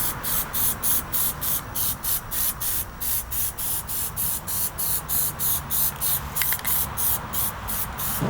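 Plasti Dip sprays from an aerosol can onto car rims in a steady stream of short, even, hissing bursts, about three per second. The bursts are close and continue without a break.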